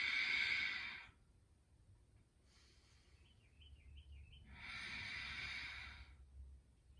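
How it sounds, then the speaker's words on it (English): Slow, deep breaths through the nose during a morning yoga session, a long airy inhale, then a quiet pause and another drawn-out exhale, close and soft against a faint low background hum. "We're going to take 5 breaths through the nose. Slow, deep inhale, slow,"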